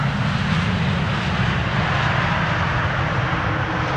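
Airplane engine noise at Amsterdam Schiphol Airport, a loud, steady broadband roar held for about four seconds without breaks or speech.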